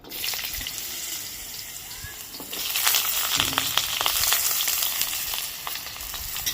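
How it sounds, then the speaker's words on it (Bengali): Potatoes fry in hot mustard oil in a home kitchen, giving a steady, close, loud hiss and crackle that swells midway and holds, with a few brief clinks, alone without talk. "আলুটাকে ভালো করে ভেজে নেব প্রথমে"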